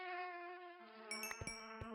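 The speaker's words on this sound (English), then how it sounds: "Mosquitoes." Mosquitoes in the Minecraft modpack Divine Journey 2 give a steady, faint, high buzzing drone, followed by several sharp clicks and thumps toward the end, with no voices.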